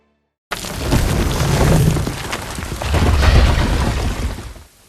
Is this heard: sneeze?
no